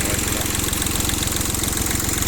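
ISEKI TL2500 mini tractor engine runs steadily close by, a chugging, evenly pulsing idle with a rough mechanical knock and no voices over it.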